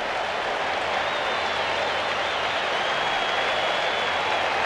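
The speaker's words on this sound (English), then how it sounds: "the crowd gives Maddux a hand" A baseball crowd at an Expos versus Braves game applauds pitcher Maddux, a dense, sustained wash of clapping from the stands that stays loud and steady with no break.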